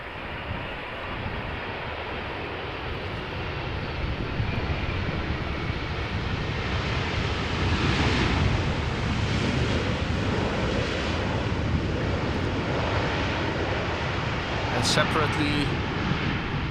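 Airplanes land at Amsterdam Schiphol Airport in gusty crosswinds, a broad continuous roar of jet engines that swells gradually over many seconds, mixed with heavy wind noise on the microphone.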